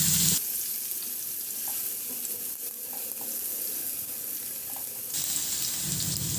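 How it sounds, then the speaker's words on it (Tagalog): Garlic sautés in hot cooking oil as a steady, hissing sizzle with faint crackles, and a brief louder burst comes near the start and again near the end. "Magpainit na muna ako ng mantika at igisa ko na yung bawang."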